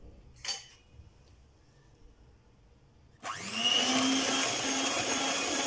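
An electric mixer beats date biscuit dough after an egg is added. A brief clatter comes first, then the motor whirs up sharply and runs loud and steady close by.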